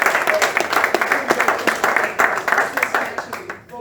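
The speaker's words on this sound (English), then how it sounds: "give a round of applause to all the groups that are backing our Wisconsin Revolution" A forum audience at a Milwaukee Medicare for All event claps loudly and steadily, a dense wash of hands from a sizable crowd lasting a few seconds before tapering off.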